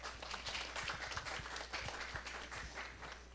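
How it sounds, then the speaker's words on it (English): An audience at a government trade statistics forum claps at the close, a faint, scattered round of individual handclaps in a large hall, sparse and quiet throughout. "A round of applause, please."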